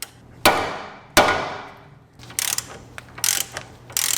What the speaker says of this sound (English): So a couple of taps with the hammer.